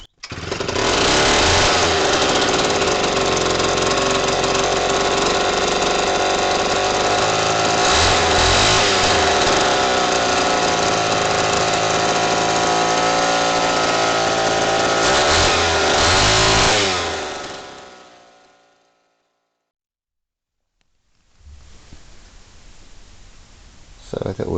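A vintage Homelite WIZ chainsaw engine runs loud and close for about seventeen seconds, holding a steady high-idle snarl with brief surges, then cuts out abruptly, leaving a short silence followed by faint background noise.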